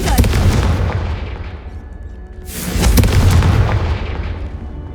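Confringo fire spell from the video game Hogwarts Legacy: two loud, close bursts of blasting, a heavy boom at the start that fades, then a second broad explosive whoosh about halfway through with rumbling tail, no talk.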